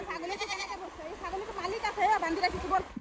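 A young goat bleats several times in quick, wavering cries, close by, with background noise and a bit of nearby voice, amid floodwater in Lakhimpur, Assam.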